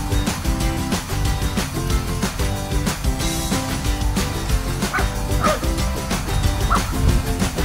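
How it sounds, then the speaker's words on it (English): Dogs at an RV stop bark and yip repeatedly, loud and close, in a rapid, continuous run of barks. "they have to bark at everything"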